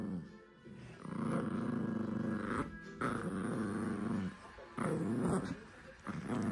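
A dog growls and grumbles steadily during rough play indoors, close and low, with brief whimpering breaks and no speech.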